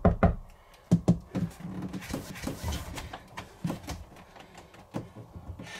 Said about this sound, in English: I'm gonna knock, because Derek cannot see us